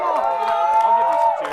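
An audience cheers and whoops in a sustained, crowd-wide roar, voting by volume for the winner of a Face Off contest; the noise holds steady throughout with a few scattered sharper shouts.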